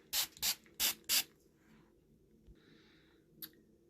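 Anti-fog agent sprays onto a LUXEAR round shaving mirror in four quick, close hissing bursts, followed by faint rustling and a soft click in an otherwise quiet room.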